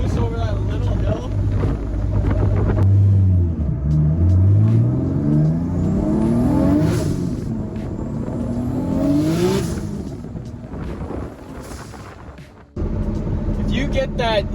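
A 2JZ engine in an MK4 Supra on a dyno revs hard and loud, climbing through shifts with rising and falling pitch sweeps, a sharp cut near the end, and a voice talking over it.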